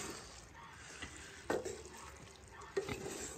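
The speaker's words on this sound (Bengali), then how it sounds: "আলু আর চিংড়ি মাছটা দিয়ে দিলাম" Potatoes and prawns tipped into a pan for a chingri peyajkoli jhal and stirred, two distinct clunks against the pan over a faint sizzle with quiet scraping between.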